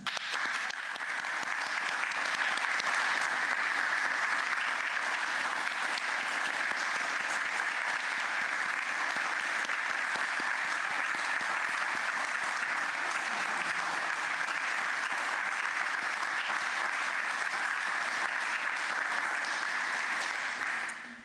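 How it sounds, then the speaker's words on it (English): Sustained audience applause for the new Canadian Ministry at a ceremony at Rideau Hall, a dense, steady clapping that stays loud and even throughout before fading at the very end. "applaudissons les membres du 29e Conseil des ministres"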